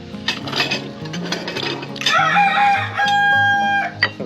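A native fighting rooster crows loudly and close, a drawn-out call in the second half, with clucking and other rural noises around it at an outdoor camp in Leyte.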